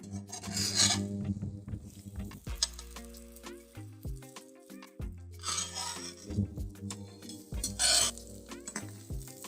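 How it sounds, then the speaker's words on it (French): A metal spatula scrapes around the inside of a stainless steel and ceramic pan in three short rasping bursts, with steady tonal background sound running beneath. "comme le prouve cette spatule que je frotte à l'intérieur de l'article"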